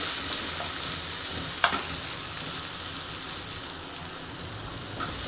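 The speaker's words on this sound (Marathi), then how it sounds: "आता मी याच्यामध्ये टॉमॅटो टाकून घेतले त्याला एक छान असं परतून घेते असं मऊ होईपर्यंत टॉमॅटो" Tomatoes sauté with onion in a hot pan for a Marathi-style bottle gourd curry, giving a steady close sizzle with stirring scrapes and one sharp clink of the spoon.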